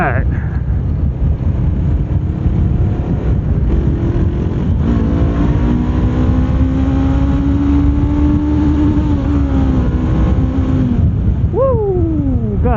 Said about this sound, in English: hit the rev limiter there